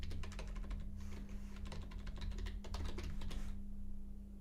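Code is typed on a computer keyboard, a quiet, close patter of quick key clicks in uneven bursts over a steady low electrical hum, stopping near the end.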